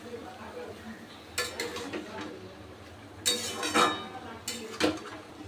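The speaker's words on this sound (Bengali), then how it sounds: "আবারও আমি একটু নেড়ে দেব" Taro and fish curry stirred in a cooking pot, with a few short bursts of metal utensil scraping and clinking against the pot, separated by quiet gaps.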